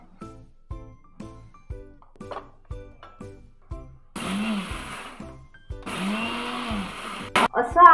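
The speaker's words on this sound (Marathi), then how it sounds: "असं आपल्याला थोडं थोडं मिक्सर फिरवून घ्यायचं आहे." A kitchen mixer grinder grinds cooled rice into coarse semolina in two short pulsed bursts, loud and whirring, preceded by rhythmic tapping and followed by brief clattering.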